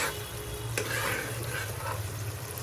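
Sauce with a little yogurt simmers and is stirred in a pan for a chicken gravy. A low, steady bubbling sizzle runs throughout, with faint spoon scrapes over it.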